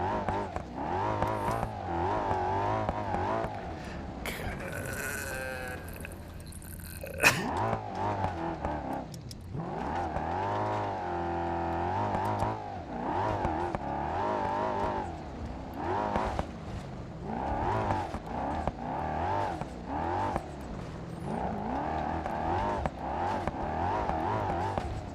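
The twin turbo Bolide car in BeamNG.Drive, driven on a rally course, revs and whines loudly throughout, its pitch climbing and dropping through the gears, with a brief hiss of gravel or spray partway through.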